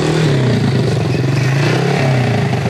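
A motorcycle engine roars loud and near, revving and pulling in with a rough, clattering drone that holds steady for a couple of seconds.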